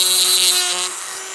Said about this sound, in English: Getting a Dremel and a small burr.